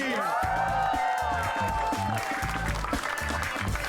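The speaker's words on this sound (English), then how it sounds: "Please give a huge round of applause for Shamik Chakravarti" A studio audience on a game show breaks into sustained applause, a dense crackle of clapping throughout, mixed with talk and background sound.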